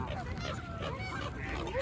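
Goose honking beside a pool during a backyard cannonball game with ducks, faint and brief, a couple of nasal honks over low background noise.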